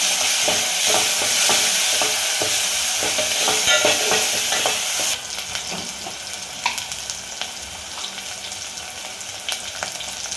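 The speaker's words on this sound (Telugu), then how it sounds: "అల్లం వెల్లిపాయ పేస్టు 1 స్పూన్ వేసుకోవాలి. వేసుకొని బాగా కలుపుకోవాలి." Ginger garlic paste stirred into chicken tamarind curry frying in a pan: a loud, steady sizzle with repeated scraping stirs, close up and continuous, with no voices.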